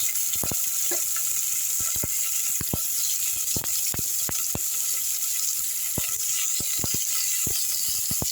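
Onions go into hot oil in a pressure cooker with popped mustard seeds and fennel, frying for an egg chukka dish: a steady sizzle with scattered sharp pops and crackles throughout, close and moderately loud, with no talk.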